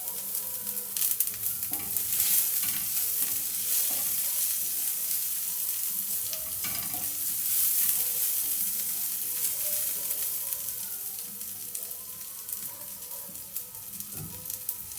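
Steady oily sizzling of onions frying in a pan, with occasional stirring scrapes, continuous and close throughout.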